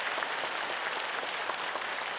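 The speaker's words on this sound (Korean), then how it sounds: "우리 다 같이 뜨거운 마음으로 환영의 박수" Steady, dense welcoming applause from a large congregation at a Buddha's Birthday ceremony in a Korean temple hall, heard at a distance as an even wash of many hands clapping throughout.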